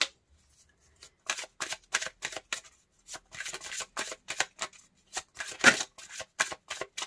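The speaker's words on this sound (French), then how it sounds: "je fais beaucoup tomber de cartes là" Tarot cards are shuffled by hand in quick, crisp bursts of riffling and flicking, close and clear against a quiet background, with brief pauses between handfuls and some cards slapping down.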